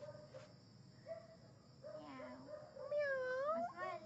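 A voices a drawn-out, rising cat meow, imitating the animal, faint and close in a quiet home after some soft murmuring.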